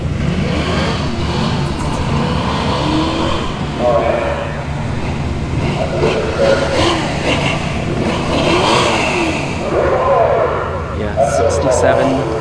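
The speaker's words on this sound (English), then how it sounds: "Got a Mustang coming up." A classic 1966 or 1967 Ford Mustang drag car runs at a drag strip, its engine roaring steadily under continuous commentary, with crowd and track noise throughout.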